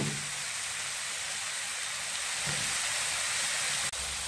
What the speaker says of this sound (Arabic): نخلي تشحر شوية مع الكفتة